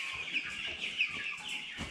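A young chick raised on crumble feed clucks and peeps in a steady run of short, high calls, close to the microphone, with no talking.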